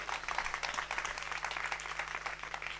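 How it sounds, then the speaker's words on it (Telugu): Steady applause from an audience at a Christian church gathering, dense continuous clapping at moderate distance with a low hum beneath. "గట్టిగా చప్పట్లు కొడదా."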